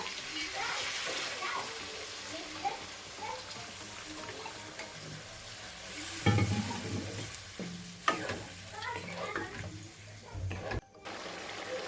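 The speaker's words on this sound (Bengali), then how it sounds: "তো এবারে আমি দিয়ে দেবো জল।" Hot water poured into a pan of sizzling cauliflower roast, a steady frying hiss with stirring scrapes and a louder surge of bubbling partway through, close up.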